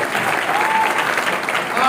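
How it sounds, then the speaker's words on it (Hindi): Loud, steady burst of applause greeting new guests on a live stream, dense clapping throughout with a faint tone running beneath. "नए मेहमानों को एक बार जोरदार ताली से स्वागत होना चाहिए"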